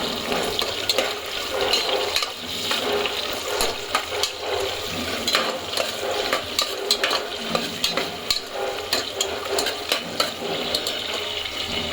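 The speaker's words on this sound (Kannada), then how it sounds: "ಈರುಳ್ಳಿ ಚೆನ್ನಾಗಿ ಫ್ರೈ ಆಗಬೇಕು, ಚೆನ್ನಾಗಿ ಫ್ರೈ ಆಗಲಿ" Onions fry in a pan at home while being stirred, giving a steady sizzle with repeated scraping and clattering strokes throughout, close and fairly loud, with no talking.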